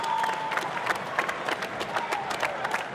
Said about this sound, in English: let's have a round of applause for that one